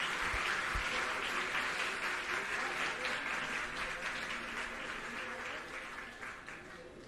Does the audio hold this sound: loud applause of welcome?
yes